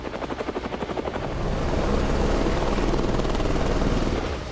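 An American-made Apache military helicopter thunders nearby, its rotor blades chopping in a fast rhythmic pulse that swells into a loud, continuous roar.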